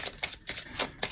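A deck of playing cards being cut and handled, a quick run of soft papery slaps and flicks at close range, about six crisp taps in just over a second, quiet with no talking.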